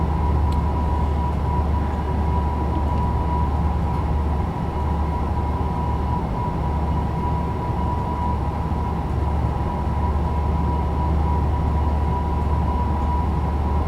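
A DB BR 101 electric locomotive hauling an InterCity between Leipzig and Dresden in a train simulator game runs at high speed, a steady loud droning hum with continuous rumble and no breaks.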